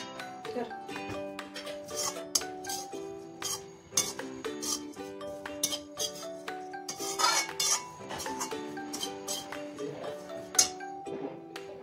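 Spices roasting in a pan to make Marathwada-style black and red chilli masala are stirred with a metal spoon, giving steady scraping and clinking against the pan, close by, with someone speaking at times.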